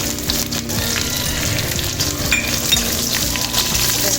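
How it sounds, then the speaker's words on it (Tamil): Small onions fry in oil for a dry fish gravy, giving a loud, dense, continuous sizzle close by with faint stirring scrapes and no speech. "இப்போ கட் பண்ணி வச்சுருக்க சின்ன வெங்காயம் அதையும் சேர்த்து"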